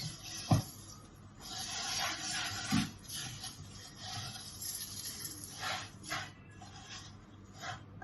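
Rice Krispies being stirred into a mixture in a bowl, a steady close scraping and rustling with a couple of sharper knocks, no voices.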